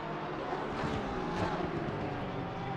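A Ferrari GT race car roars past in a PC sim race at Valencia, its engine note loud and continuous with a brief swell as it passes; no talking.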